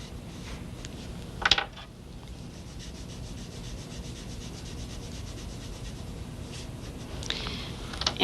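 A crayon rubs steadily across paper while drawing a lamp, giving a soft, continuous scratchy texture close by, with a couple of brief louder scrapes near the start and end.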